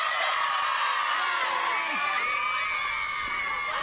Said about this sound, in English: It's the entire sixth grade class. 68 screaming kids.